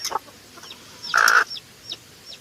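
A native mother hen and her chicks at a water dish, with short clucks and a louder squawking cluck near the middle, close by and without talk.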